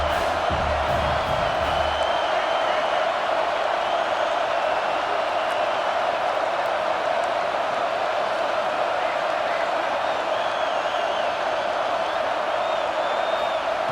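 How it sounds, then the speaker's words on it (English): A home crowd at a football video game between Michigan and Washington roars loudly and steadily, a dense, sustained wall of cheering with no break. "how nice is it to have the home crowd going absolutely bananas?"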